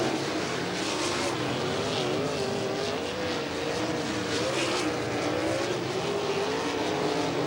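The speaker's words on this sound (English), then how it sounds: "we're underway in Group 1 of 4 of D-Transport 410 sprint car hot laps" 410 sprint cars run hot laps at Paragon Speedway, a dense continuous engine roar with rising and falling pitch as the cars circle, loud and steady with no talk over it.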